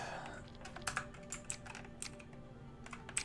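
Someone types on a computer keyboard, a quick irregular run of soft key clicks with short pauses between bursts, close but fairly quiet against a faint background hum.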